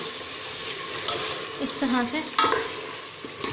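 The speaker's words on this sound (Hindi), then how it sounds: "ये तमाम मसाले हम इसके अंदर ऐड कर देंगे और इसकी अच्छी सी भुनाई कर लेंगे" Spices, onion and tomato for a turnip and meat curry stir-fried in a pan, a steady soft sizzle with a few louder scraping stirs near the middle and end.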